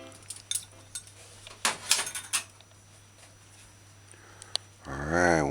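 Cornstarch liquid is stirred in a dish, producing scattered clinks and scraping taps of a utensil against the bowl, louder in a short burst midway, and a voice speaks briefly at the end.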